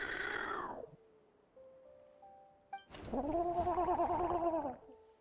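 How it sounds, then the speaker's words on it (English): A bird calls in the Genshin Impact video game, a loud warbling cry at the start and a longer, wavering squawk later, separated by soft synthetic chimes and near silence. "Hey, Mama Bird. I'm back."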